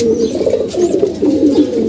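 Pigeons coo close by in a steady, throaty, rolling murmur, with faint chirps above and no voices.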